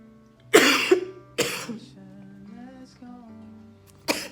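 Three sharp, close coughs, spaced apart, with a strained voiced groan between them.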